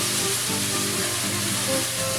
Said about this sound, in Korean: 매운 양념 고기도 같은 방법으로 볶아줍니다